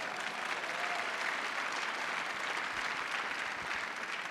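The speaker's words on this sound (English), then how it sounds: "That deserves a round of applause" Sustained audience applause fills a hall at a space symposium, a dense, even wash of many hands clapping at steady loudness throughout, with no voices standing out.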